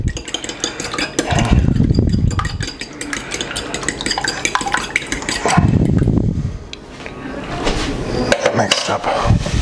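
Farm fresh eggs whisked for an egg wash, rapid rhythmic clicking of a fork or whisk against a bowl in bursts, with some clatter of utensils and a brief voice.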